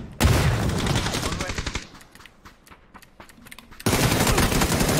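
Machine-gun fire in the battle royale game PUBG, a loud sustained burst of rapid shots, a quieter stretch of scattered distant pops, then another heavy automatic burst.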